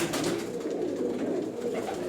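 Pigeons coo at a pigeon seller's in Turkey, a soft, continuous low cooing close by over a steady background hum, with no talk.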